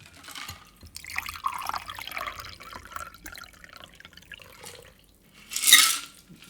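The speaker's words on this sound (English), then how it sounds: "And then we just strain it into the glass." A chilled cocktail is strained into an Old Crow glass, liquid trickling and dripping with a soft clink of glass near the end, close and moderately loud.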